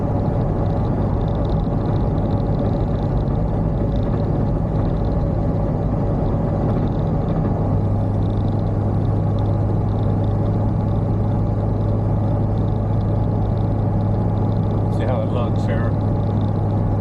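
A Corvette cruising in sixth gear, its engine a low steady rumble heard from inside the car, constant and droning throughout, with a driver speaking over it.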